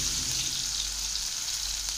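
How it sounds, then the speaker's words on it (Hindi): Ginger paste and chopped green chillies fry in hot oil for bread pakoda, giving a close, steady sizzle with a faint crackle, constant and uninterrupted throughout. "ऐड करेंगे हम हरी मिर्च कटी हुई, इसको जो है हमें फ्राई करना है।"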